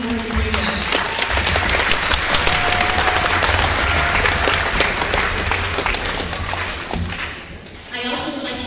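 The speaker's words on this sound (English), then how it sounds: "So I'm giving you a round of applause." Audience at a school spring concert clapping in a steady, dense round of applause that fills the hall, loud and close, fading slightly near the end as a voice begins speaking.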